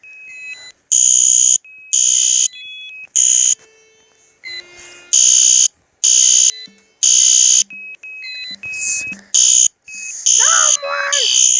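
A fire alarm blares in loud repeated bursts, each about half a second long with short gaps between them, while people shout and talk over it in alarm.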